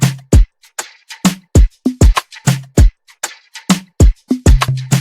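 A programmed drum loop in FL Studio, congas and percussion now joined by a punchy kick drum, hitting in a tight repeating groove, loud and close with no talking.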